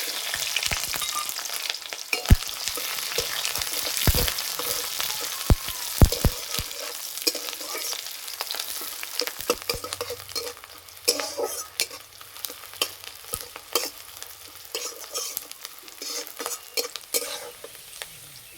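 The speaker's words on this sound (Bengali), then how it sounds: "পেঁয়াজ হালকা লাল করে ভেজে নিয়েছি" Onions and slit green chillies fry in mustard oil with whole spices, a loud constant sizzle broken by frequent spatula scrapes and metallic knocks against the pan, with no speech.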